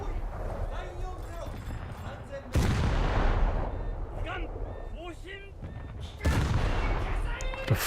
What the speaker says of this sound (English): Okay, let's shoot a few sub-salvos.